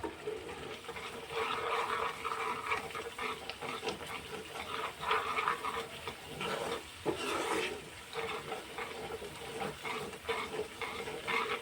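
Dal makhani being stirred steadily in a pot on the stove, a continuous wet scraping and gentle bubbling with a faint sizzle, close and even throughout, with no talking.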